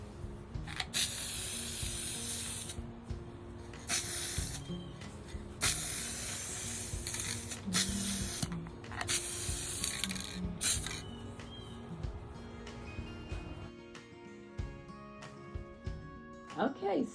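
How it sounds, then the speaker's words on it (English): Short bursts of clear top coat hiss from a spray can onto a wooden decorating craft piece, several separate sprays of varying length with quiet gaps and small handling clicks between them, no talking. "I'm going to go ahead and spray it with this this clear top coat"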